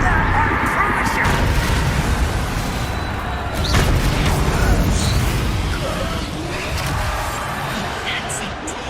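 A fiery Incendio spell cast in Hogwarts Legacy, a dense, continuous roaring burst with rumbling low end that swells around the middle and sustains for several seconds.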